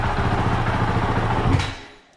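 A Honda CRF450RL dirt bike engine runs at a rough, fast-pulsing idle just after starting, close and fairly loud, then abruptly dies and fades to silence.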